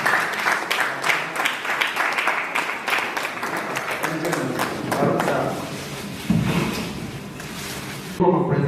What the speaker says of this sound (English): Can we clap for him?